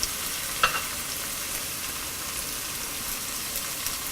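Sliced onion, garlic and ginger frying in a pan give a steady, even sizzle, with one brief clink near the start.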